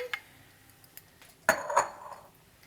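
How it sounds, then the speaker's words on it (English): Red lentils tipped into a cooking pot, giving a brief rattling clink and a short rush of grains about halfway through, preceded by a few faint light taps in a quiet kitchen. "going to add some red lentils"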